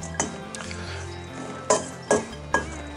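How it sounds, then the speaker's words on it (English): Spoon scraping a bowl as cheese is mixed into dry biscuit ingredients with rosemary and pepper, four distinct clinking strokes over a steady low hum, close by, no one speaking. "I think it's going to be easier to put the cheese in now and mix it up with the dry ingredients"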